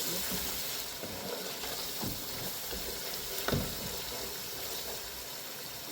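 A stew pot seasoned with smoked paprika and cumin powder sizzles steadily as spices are stirred through it, with soft scrapes and a sharper knock near the middle, all close and moderately quiet.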